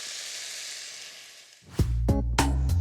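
Onions cooking down and softening in a pan for a lamb and sweet potato stew: a steady soft sizzle, then louder bursts of frying and clattering stirring near the end.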